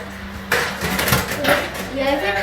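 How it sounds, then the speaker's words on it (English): A metal tray of glazed ready-rolled pastry is slid into a home oven with a sudden clatter, then scraping and knocking rattles; people talk close by throughout. "Okay, so I'm gonna put this in the oven"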